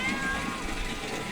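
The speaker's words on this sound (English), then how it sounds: "Hi, Millie Cat." A domestic cat meows close by in a farm building where a water drum with drinking nipples is being checked, its cry rising over steady background noise.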